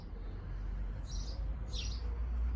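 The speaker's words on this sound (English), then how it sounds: "I don't know if you can hear the sparrows. There's actually sparrows in the tree." Two brief, high sparrow chirps a moment apart from a tree in a spring garden, faint and somewhat distant, over a steady low outdoor rumble.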